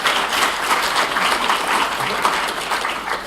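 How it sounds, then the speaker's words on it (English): Conference audience applauding after a talk on disability law and university research centres, a dense, sustained wash of clapping from a crowd filling the room, steady at moderate loudness. "You can applaud."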